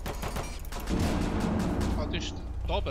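Gunfire in a video game, a burst of loud shots and a rumbling blast-like barrage, with someone talking over it.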